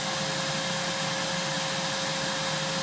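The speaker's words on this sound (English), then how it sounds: "Vacuum is very quiet. Definitely has a little bit of a higher pitched tone to the motor" Aerus Lux Electrolux Guardian upright vacuum cleaner running on suction, a constant close motor whine with a steady high-pitched tone and airy rush throughout, no voices.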